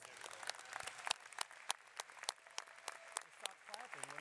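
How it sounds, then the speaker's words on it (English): Scattered, sparse clapping for graduating student athletes at an athletics commencement, with individual sharp claps and other faint background sounds at a quiet level. "please stand for a well-deserved round of"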